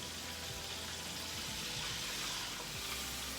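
Steady, dense sizzling and crackling of chicken frying in oil at 350 to 360 degrees, continuous and close, with no talking.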